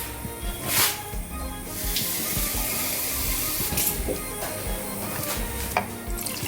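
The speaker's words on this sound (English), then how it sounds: "I'm just going to catch some water in there to just rinse it off." Water runs steadily from a tap with a soft hiss, accompanied by a few clinks and brief splashes, with no talking.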